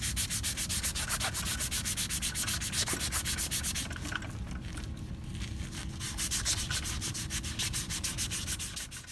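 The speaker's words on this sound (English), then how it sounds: "Abrade both ends of the conductor." Steady, rapid rhythmic scraping close to the microphone, like sandpaper rubbed back and forth over a cable's outer jacket, continuing without pause.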